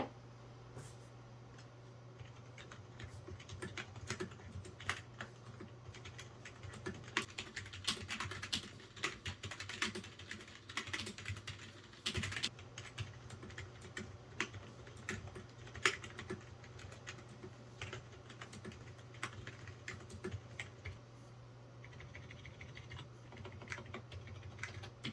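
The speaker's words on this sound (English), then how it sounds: "let's see how the keyboard sounds now after being fully modded out as much as possible." Fast, continuous typing on a fully modded membrane keyboard, close up and fairly quiet: soft, muffled key presses with occasional sharper clacks over a low hum, without speech.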